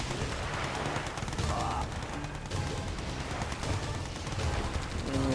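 Rapid, dense gunfire in the real-time strategy game Red Alert 2: Yuri's Revenge, crackling continuously over a busy battle soundscape with faint tonal game effects scattered through, steady in level from start to finish.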